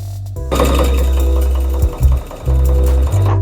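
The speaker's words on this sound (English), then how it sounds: "sew this together at the short end" Sewing machine stitching the short end of a fabric piece together, a steady loud motor hum with two brief pauses where it slows and restarts, running continuously otherwise.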